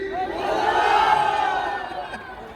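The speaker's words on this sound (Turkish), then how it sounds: "3, 2, 1 deyince kozalak diyoruz." A crowd at a car fair in Mersin shouts one word together in unison after a countdown, a loud sustained collective yell that rises and then trails off.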